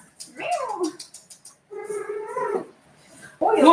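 A domestic cat meows in a drawn-out, wavering call at close range, with a second harmonic-rich meow following after a short pause and a burst of other sound at the end.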